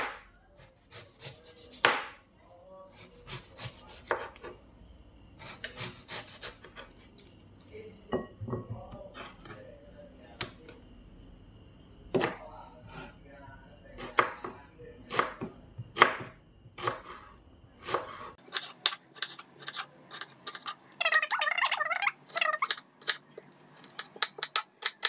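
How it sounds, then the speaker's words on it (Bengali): A knife slices peeled mango into thin pieces on a board for mango pickle, making irregular close taps and chops that turn into quicker bursts of cutting near the end. "এখন আমগুলোকে কুচি করে নিব, পাতলা পাতলা সাইজ করে।"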